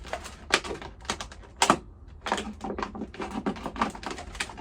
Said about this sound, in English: cut all the way around, keeping fingers well out of the way of the blade.